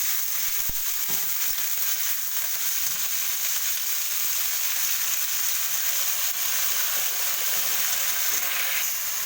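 Bottle gourd leaves hitting a pan of already browned onions give a steady, close, broad frying sizzle that holds evenly throughout with no talk.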